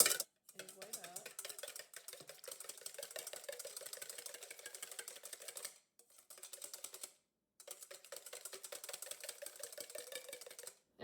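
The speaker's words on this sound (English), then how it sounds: "I'm going to use my wire whisk and whisk this egg white up" A wire whisk beats egg white in a bowl for a vanilla cinnamon granola, giving a fast, continuous run of light metallic ticking with two short pauses.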